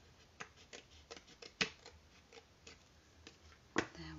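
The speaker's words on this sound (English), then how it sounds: "cut these pieces out. And the more you snip out, the easier it is just to turn those corners." Scissors snip out small pieces of paper around a die-cut window shape, a quiet, irregular run of close, crisp cuts with brief pauses between them.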